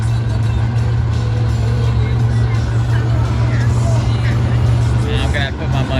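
Cars at a no-prep drag race in the woods, including a Chevrolet S10 in the left lane: a loud, steady engine drone with a low rumbling hum, heard amid crowd noise and an announcer's voice throughout.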